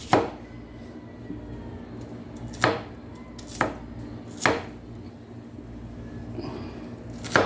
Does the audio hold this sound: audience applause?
no